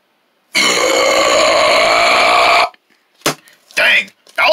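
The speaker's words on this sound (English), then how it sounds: "that was a nasty belch" A long, loud, throaty burp lasting about two seconds, followed by a couple of short vocal sounds.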